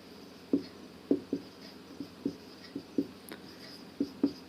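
Marker or chalk writing on a board during a maths lesson on speed, distance and time, heard as a quiet series of about a dozen short taps and strokes in uneven rhythm, close by with no talking.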